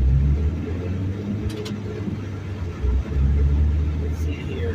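A car driving alongside a train, a low, close road rumble of engine and tyres that rises and dips steadily, with someone speaking briefly over it.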